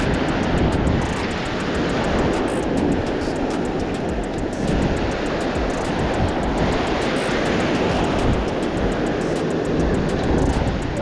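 Ocean surf rolls onto a San Diego beach, a loud continuous roar of breaking waves and wash with wind buffeting the microphone, steady throughout with no voices.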